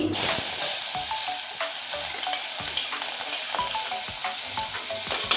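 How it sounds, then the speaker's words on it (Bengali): Chopped capsicum fries with cumin seeds in hot oil, giving a bright steady sizzle broken by regular scraping strokes of a spatula against the pan, heard up close. "ক্যাপসিকামটা লাল করে ভেজে নেব"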